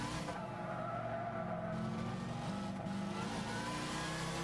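Race car engine roaring with tyres skidding in a Gran Turismo NASCAR Sprint Cup race at Willow Springs, a steady, loud, unbroken drone of revving and squealing with no talk.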